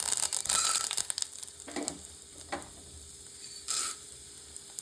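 Mustard seeds, chana dal and urad dal frying in hot oil in a kadai, a steady sizzle with brief crackling pops and a few stirring scrapes, close and fairly quiet.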